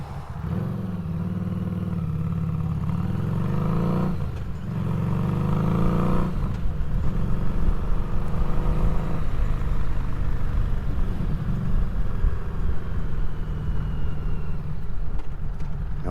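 A Harley custom 500 motorcycle engine drones steadily throughout, rising and falling as it revs during a ride, loud and close with no talking.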